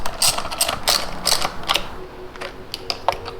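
Metallic ticks and clicks from tools working on the 10mm taillight bolts of a Honda Grom motorcycle, sharp and close, with a busy run of clicks early on that thins out to sparse taps.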